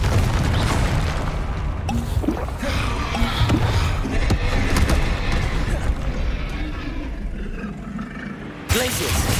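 Repeated fiery spell blasts from Confringo in Hogwarts Legacy, a series of booming bursts and crackling impacts layered over combat noise and score, loud and dense, ending with one sharp final blast.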